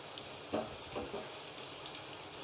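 Sliced onions brown gently in hot ghee for a wedding-style chicken korma, a soft steady sizzle with a few brief stirring clatters, low in level and heard alone.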